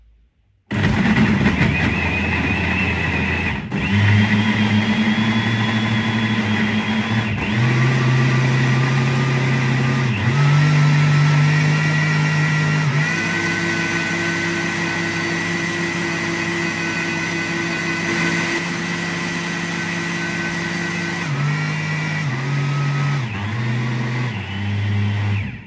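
A Cecotec blender runs on its pulse turbo setting, a loud, close motor whine that holds steady for about 25 seconds, shifting pitch a few times as the load changes before cutting off at the end.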